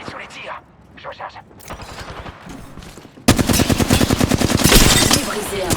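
Rapid automatic gunfire in a video game, quieter bursts at first, then a loud sustained volley for the last few seconds, with a voice calling out over parts of it.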